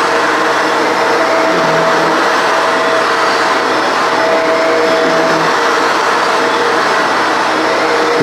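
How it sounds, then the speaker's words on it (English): A Shark NV752 vacuum cleaner runs steadily over a rug, a loud continuous motor whine and airflow roar with slight shifts as it is pushed back and forth, no talking. "Just vacuuming the rug makes it look so,"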